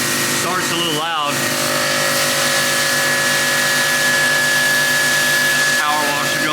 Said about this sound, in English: Power washer going over there.